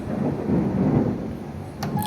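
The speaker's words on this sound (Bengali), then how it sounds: "দেখি বৃষ্টিটা কেমন হচ্ছে।" Rain and rolling thunder outdoors during a hot-season downpour, a steady low rumble with broadband rain wash filling the whole stretch, fairly loud and without voices.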